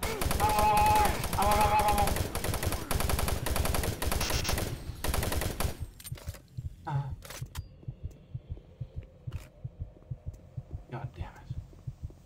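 Rapid automatic gunfire from the duplicate gun in the shooter game Doom 3 hammers densely for about six seconds, then gives way to scattered single shots and rhythmic thuds.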